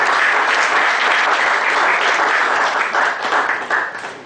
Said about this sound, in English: Please stand, speak in the round of applause